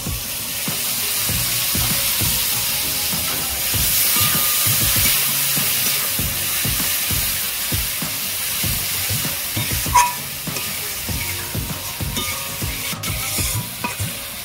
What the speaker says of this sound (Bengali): মশলাগুলো ভালো করে আমি কষিয়ে নেব।